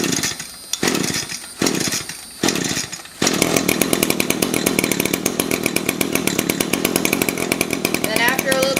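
An SRM-225 string trimmer's small two-stroke engine sputters through a few short bursts, then catches and runs steadily at a fast idle while warming up, loud and close.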